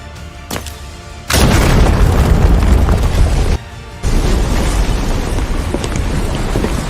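Two sudden, loud booming explosions from a war film, each followed by a heavy, sustained roar and rumble, with a brief quieter gap between them.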